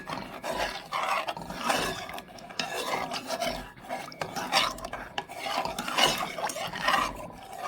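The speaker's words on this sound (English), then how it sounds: "I'm going to stir that up." Pozole with broth being stirred in a pot, a steady scraping, rasping rub of a utensil against the pot in repeated strokes, close and moderately loud, with no talking.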